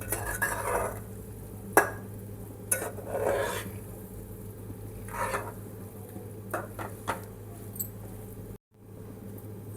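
A spoon scrapes and clinks around a pan while okra and tomato curry with coriander powder is stirred, giving irregular close metallic knocks and gritty scraping strokes over a low background hum, with no voices over it.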